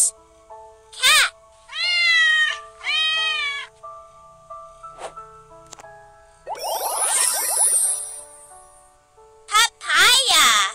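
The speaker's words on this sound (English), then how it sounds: "This? Cat!" A cat meows in several drawn-out cries, clear and close, between a voice, short chimes and other bright game sounds.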